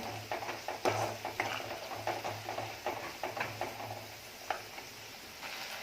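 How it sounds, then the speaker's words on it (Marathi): Spice paste, a ground masala for Alibag-style tondli bharit, is sautéed in oil, with soft sizzling under repeated scraping stirs of a spoon against the pan, close and steady throughout. "हे वाटण आहे ते तेलामध्ये परतून घ्यायचं"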